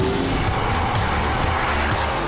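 An Audi R8 with a 4.2-litre V8 accelerates hard in second gear on a track, its engine roaring loud and steady from close by.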